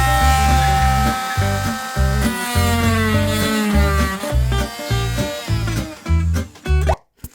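A multi-tool cuts during a hot water calorifier installation on a narrowboat, giving a loud, steady buzzing whine in repeated bursts with short pauses before it stops at the end.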